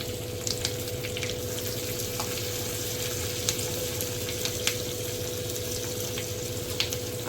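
Curry leaves and chillies crackle and sizzle steadily in hot oil for a kadhi tempering, with asafoetida and garlic in the pan, a close, continuous frying hiss with scattered pops and no talk.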